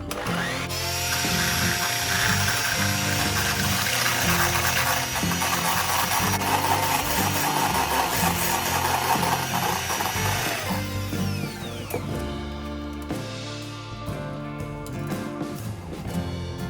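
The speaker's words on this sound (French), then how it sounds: "Je vais maintenant monter les blancs en neige. Pour ce faire, j'ajoute une pincée de sel et j'utilise mon batteur." Electric hand mixer whipping egg whites with a pinch of salt, a loud continuous motor whir with rattling beaters that shifts in pitch partway through, close and steady, with no talking.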